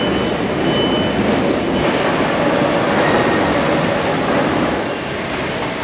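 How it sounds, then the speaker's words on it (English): Double-decker high-speed TGV at Gare de Lyon station, heard as a loud, steady rumble of rolling stock with faint wheel noise and hiss, continuous throughout with no voices. "I'm still trying to get my head around these double-decker TGVs."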